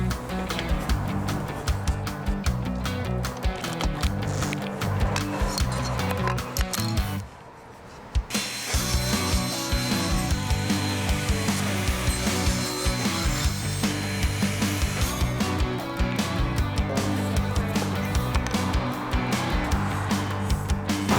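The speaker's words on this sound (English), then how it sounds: "So let's hit it with the handsaw." Handsaw cutting a notch in a wooden desk organizer with fast, steady back-and-forth strokes, close and loud. The strokes break off briefly about a third of the way through, then resume.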